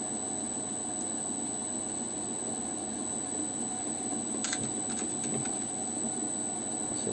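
Small pieces of low-grade rough Coober Pedy opal are rubbed on a grinding wheel, making a steady high-pitched squealing whine with a few brief scratchy bursts, heard close with no speech.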